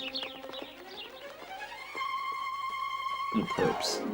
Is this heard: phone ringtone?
no